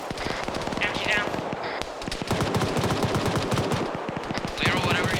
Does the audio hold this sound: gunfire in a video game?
yes